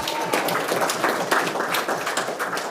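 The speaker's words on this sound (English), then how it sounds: "Could we have another round of applause for Dr." Dense round of applause from a press conference audience, many hands clapping loudly and continuously at close range with no pause.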